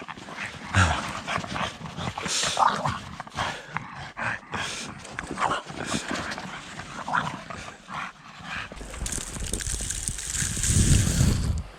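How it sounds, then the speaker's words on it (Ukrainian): Dogs scamper about nearby in a deciduous forest, panting heavily and snuffling, with paws scuffing the ground and a burst of rustling, splashing noise toward the end. "От собаки носяться, ну."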